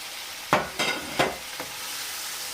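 Mutton frying in ginger garlic paste with onions in a karahi, a steady sizzle broken by four sharp stirring scrapes spaced about a third of a second apart.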